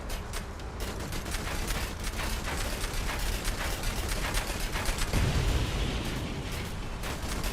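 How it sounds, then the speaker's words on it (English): Rapid, dense bursts of gunfire rattle continuously with scattered explosive thumps, a steady barrage of game combat sound at moderate volume. "Machine gun's a little weak sounding"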